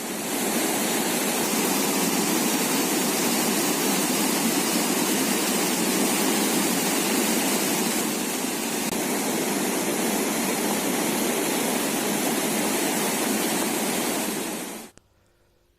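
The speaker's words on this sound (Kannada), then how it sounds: "ಕಟ್ಟೇಪುರ ಅಣೆಕಟ್ಟು ತುಂಬಿ ಹರಿತಾ ಇದೆ" The Kaveri river overflowing Kattepura dam near Ramanathapura, a dense, continuous roar of rushing water that holds steady and loud for the whole stretch before cutting off at the end.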